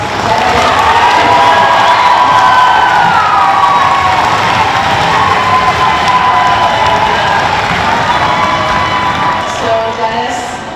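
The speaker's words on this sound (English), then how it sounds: "So let's give both of our finalists a round of applause." An audience at a school geography bee final cheers and claps for the two finalists, a loud sustained crowd roar with shouting children's voices over scattered clapping.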